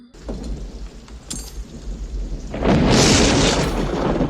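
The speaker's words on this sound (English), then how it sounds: "The thunder." Thunder rumbles through a storm scene in the 1992 western film Unforgiven, a low continuous roll that swells into a loud, sustained burst of rain-like hiss, with no talk over it.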